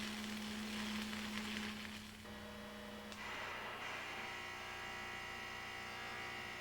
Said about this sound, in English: A good arc is accompanied by a crisp, crackling sound similar to bacon frying.